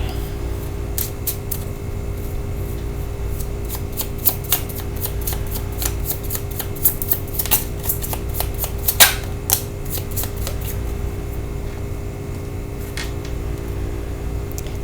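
A deck of Lenormand cards is shuffled by hand, giving soft repeated riffling and flicking bursts that cluster in the middle, heard close and quiet over a faint steady room hum.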